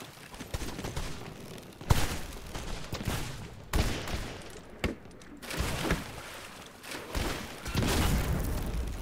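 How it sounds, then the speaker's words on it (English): Cannon fire pounds a ship in Blazing Sails, with a string of sharp booms and thuds at irregular intervals, some close and punchy, others duller, between quieter stretches. "We're getting bombarded."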